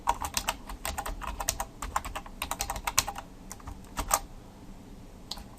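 Rapid, irregular clicking of keys on a computer keyboard, typed close up in a quiet room with no voices, the keystrokes coming in quick bursts with brief pauses between.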